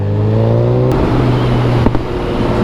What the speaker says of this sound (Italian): Macchina in arrivo qua in sinistra